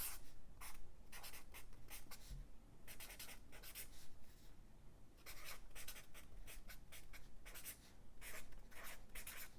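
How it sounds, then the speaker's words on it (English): Pen writing by hand in a bullet journal, close and quiet, with repeated scratchy strokes in short bursts separated by brief pauses. "I'm gonna write my goal for the quarter"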